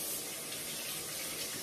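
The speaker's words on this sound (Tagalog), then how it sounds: "So, maghilamos lang tayo." Water runs steadily from a sink tap while a face is washed, a continuous hissing splash filling the whole short moment.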